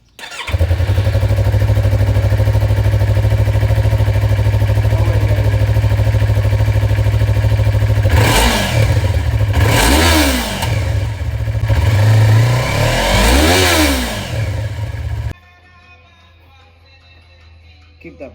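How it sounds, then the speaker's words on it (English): A Yamaha MT03 motorcycle fitted with a cheap KO Lightning aftermarket exhaust idles loudly and close, then blips through several sharp revs in the middle before the engine cuts off, leaving near silence. "So I got a new muffler for my MT03. It's just the cheap KO Lightning exhaust"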